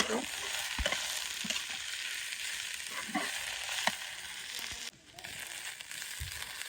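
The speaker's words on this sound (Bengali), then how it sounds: "পরিমাণ মতো লবণ দিয়ে দেবো ভালোভাবে নিয়ে করে তারপরে মিশিয়ে নিতে" A pan of food is salted and stirred while it fries, giving a continuous sizzle with repeated spatula scrapes and knocks against the pan. The sound stays fairly close and even throughout, with a brief dip near the end.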